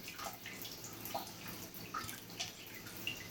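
Water dripping and splashing softly around a pet parakeet being bathed, a steady low wash of droplets with a few brighter drips standing out, close and fairly quiet.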